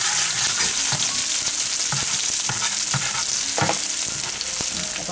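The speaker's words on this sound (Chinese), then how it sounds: "把料炒起，淋起，姜蒜先放下去炒一下" Ginger and garlic stir-fry in a hot wok with pork dishes being cooked, a steady loud sizzle broken by the repeated scrape and clack of a spatula tossing the aromatics, with no talk.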